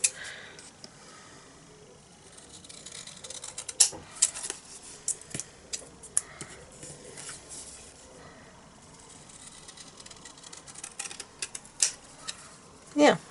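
Long scissors cut freehand through cardstock in scattered crisp snips and rasping slices, close and fairly quiet, with a person talking across the cutting.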